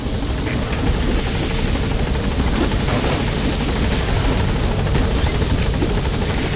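A helicopter in Metal Gear Solid V touches down, its steady rotor thump and turbine roar loud and continuous throughout, close by with no pauses.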